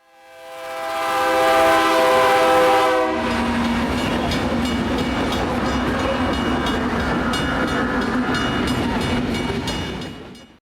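A freight or passenger train at a railroad crossing sounds a long, loud multi-tone horn blast for about three seconds, then rumbles and clatters steadily past up close, its cars rolling by without a break until the end.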